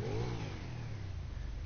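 A GTA game's Bati 801 sport bike revs, its exhaust note climbing sharply at the start, then settling into a sustained, buzzing engine hum at close range with no voices.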